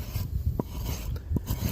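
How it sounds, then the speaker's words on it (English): Bark and muck being shaved off a mulberry wood blank while preparing a carving hammer, heard as steady close rasping scrapes with two sharper strokes standing out, no talk. "And all you really got to do is just shave the muck off."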